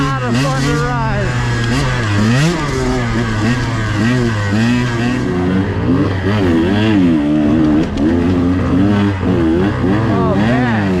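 A KTM 125XC two-stroke dirt bike with TBT suspension revs hard throughout while being ridden, its engine pitch rising and falling through the throttle. It is loud and close the whole way.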